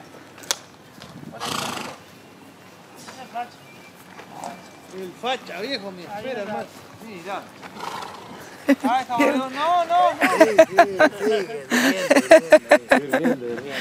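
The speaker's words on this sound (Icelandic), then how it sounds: "en þessir hestar þeir eru bara jafn háir og ég" Horses at a polo match at Cowdray Park Polo Club in Midhurst, during the King Power Gold Cup, let out several wavering neighs. Rapid rhythmic clicks build toward the end, and nearby voices talk throughout.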